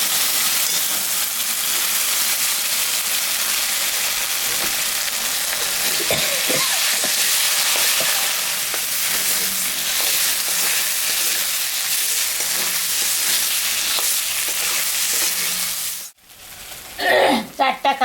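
Dried red and green chillies with ginger-cumin paste sizzle loudly in hot oil for a Bengali fish curry, a dense steady hiss that cuts off near the end, followed by a few sharp clatters.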